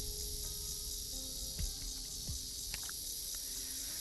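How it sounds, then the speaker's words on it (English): Constant cricket trilling in an Arknights game scene, an even high shimmering chorus with scattered soft clicks and taps from the game underneath. "those cricket noises are really soothing"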